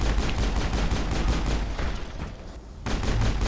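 Rapid, evenly spaced pistol shots from a starting pistol in a video game, fired as a steady volley. The firing breaks off briefly near the end, then resumes. No speech.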